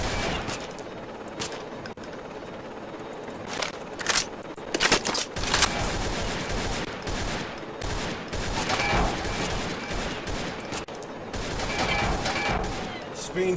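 Gunfire in a helicopter shooter video game, with scattered sharp shots and short bursts over a constant rumbling background, fairly loud and irregular throughout.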